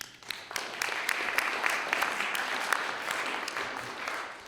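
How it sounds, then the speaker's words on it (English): An audience applauds steadily for former England cricket captain Mike Brearley at an anniversary event honouring Learie Constantine, a dense even patter of many hands filling the room at moderate loudness without a break. "clap for him."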